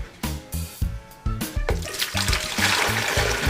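Hot tea sweetened with dissolved sugar is poured into a pitcher, a splashing, gurgling stream that begins in rhythmic glugs and settles into a steadier rush of liquid, close and alone without talk.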